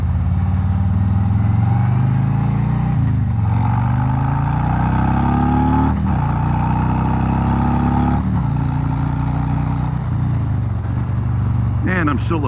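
A 2019 Harley-Davidson Street Glide Special being ridden, its engine droning steadily with several rising and falling revs as it shifts through gears, wind noise rushing underneath and a brief voice near the end.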